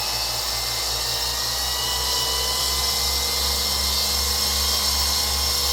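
A high-current motor drive switched by MOSFETs whirs steadily with a strong low hum and a broad high-pitched whine, running continuously at high power with no one talking.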